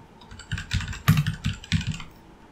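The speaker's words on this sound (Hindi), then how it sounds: "तो यहाँ पे नाम लिखते हैं सुब्रतो विश्वास" Someone types a name into a form on a computer keyboard: short runs of soft, close key clicks in an uneven rhythm, with no talking.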